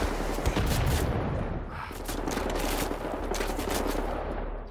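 Enemy gunfire in Wolfenstein The New Order, rapid automatic bursts rattling loudly with a brief lull near the middle before the shooting resumes in choppy volleys.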